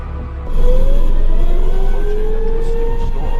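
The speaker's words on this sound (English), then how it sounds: "But emergency management has set off the sirens." Tornado warning sirens wail in the distance with a slow rising and falling tone, steady over a low outdoor rumble.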